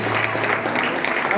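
A congregation claps together at a church couples' gathering, a steady burst of applause that runs under a speaking voice.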